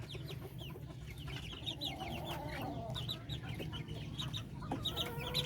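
A flock of backyard chickens clucks continuously nearby, overlapping short calls and chatter forming a busy, steady farmyard murmur.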